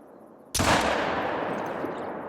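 A Coachmate Lever .45-70 rifle fired once in theHunter: Call of the Wild, a sudden loud close blast followed by a long rolling echo that fades slowly.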